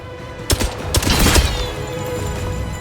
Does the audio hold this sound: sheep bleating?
no